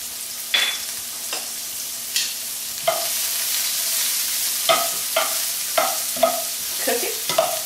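Zucchini squash strands fry in an oiled pan with a low steady sizzle, punctuated by about a dozen sharp scrapes and clinks of a utensil stirring them, close and without speech.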